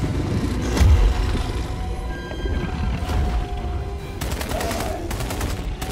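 Gunfire from a film scene, with a deep boom followed by dense bursts of rapid shots over a rumbling background, fairly loud and continuous with no talking.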